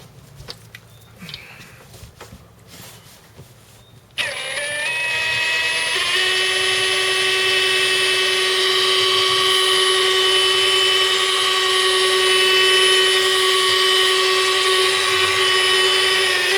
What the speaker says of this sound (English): And then you start polishing.